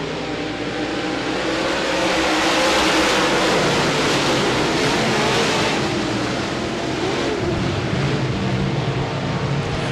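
Modified race cars roaring around Devils Bowl Speedway at a green-flag restart in the USA Modifieds series, a loud continuous pack of engines that swells and shifts as cars pass, with no voices.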